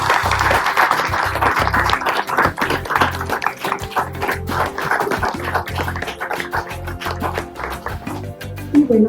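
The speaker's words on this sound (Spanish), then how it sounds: "le pido un fuerte aplauso" An audience claps in a Mexico City café-bookshop at a book presentation, a dense burst of applause that stays steady and loud throughout.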